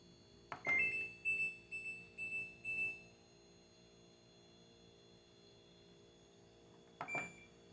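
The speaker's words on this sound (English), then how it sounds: "you guys know I like the loud chime noise" Kenmore Elite 41072 washing machine alert sounding a loud electronic chime: a rapid run of about five bright beeping tones, then a few seconds of quiet hum and one more single chime near the end.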